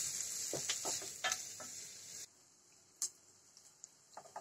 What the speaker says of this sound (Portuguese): Agora eu vou deixar refogar a cebola.